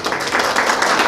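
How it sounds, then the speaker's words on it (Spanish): Applause at a family 50th birthday party, a steady wash of clapping from a gathered crowd that holds evenly loud for about a second. "Cordiales aplausos para él."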